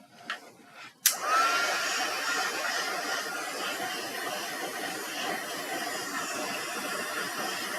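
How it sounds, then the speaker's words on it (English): A craft heat tool switches on with a click and then blows a loud, steady, hissing whoosh of hot air close by while drying card, continuing without a break. "I'm going to throw the heat on here just to make sure that it's dry."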